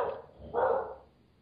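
A dog in a home barks once indoors, a muffled, fairly faint yap set against a low background hum, with no talking over it.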